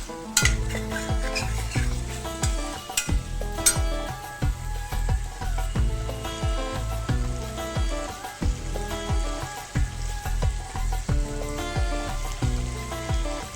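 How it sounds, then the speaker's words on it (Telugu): Cut drumsticks, onion, green chilies and coriander frying in a pan for a prawn curry, with steady sizzling and regular rhythmic stirring and scraping strokes at close range, no voices. "ఆ తర్వాత నేను ఇందులోకి కట్ చేసుకున్నటువంటి ములక్కాడలు అలాగే ఆనియన్ పచ్చిమిర్చి కొత్తిమీరని యాడ్ చేస్తున్నాను"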